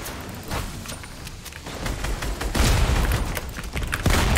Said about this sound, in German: Warum explodiert die alles?